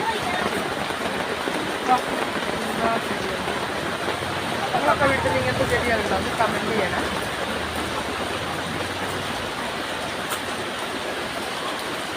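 Rain falls steadily outdoors near a gate where runoff flows past plants, a dense, even wash of patter throughout, with someone talking over it for part of the time.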